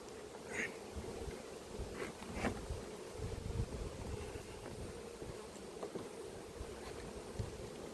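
A steady swarm of honeybees buzzes out of a crowded hive box at an apiary, a continuous droning hum mixed with outdoor wind rumble on the microphone and no speech.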